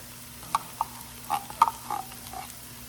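Quiet, sparse sizzling and popping of tomato paste sautéing in a hot pan, with a few soft crackles scattered irregularly over a low steady hum.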